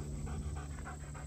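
A dog pants steadily with quick, rhythmic breaths, close to the microphone and fairly quiet, over a faint steady background hum, outdoors at a state park.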